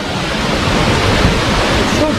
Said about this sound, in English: Let me show you the waterfall.